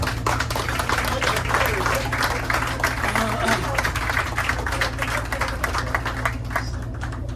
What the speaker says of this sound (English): You all deserve a round of applause for that